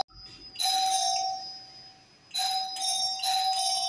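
An electronic doorbell chimes three times in quick succession, loud and close, each ring sustaining a bright tone before the next press.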